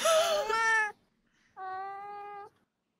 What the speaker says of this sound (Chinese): 喵一下好不好？